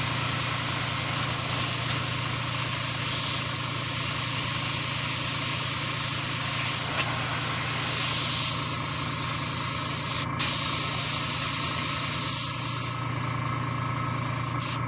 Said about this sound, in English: spray through it to clean up any large goblets